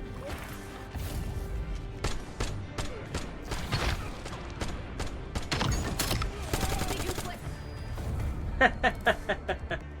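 LMG gunfire in a Call of Duty Nuketown match, rapid bursts of automatic shots with crashes and mechanical clatter, ending in a distinct rhythmic string of sharp rounds.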